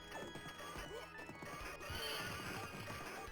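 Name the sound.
horse neighing in the Capcom arcade video game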